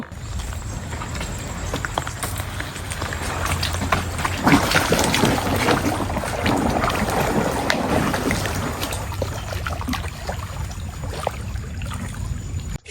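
A boat travels along a canal in the Sundarbans, a steady wash of water and motor noise with irregular knocking and splashing, loud and continuous throughout with little speech.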